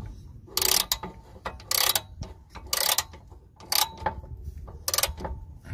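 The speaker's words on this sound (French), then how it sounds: "Le cliquet il passe bien sur les vis du haut" Ratchet wrench tightening the hub screws at the rear wheel bearing of a Citroën C1: five loud bursts of rapid clicking, evenly spaced about a second apart, over a low background rumble.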